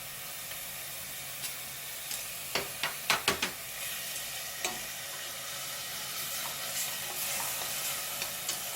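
Beef hits hot sesame oil in a pot over low heat, a soft steady sizzle broken by a quick cluster of sharp clicks and scrapes from stirring, close and fairly quiet.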